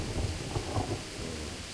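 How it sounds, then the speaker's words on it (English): Stormy weather in the medieval role-playing game Kingdom Come: Deliverance: low rumbling thunder and steady rain hiss, moderately quiet and continuous, with faint pulses of louder rumble and no voices. "Stormy weather at the moment though."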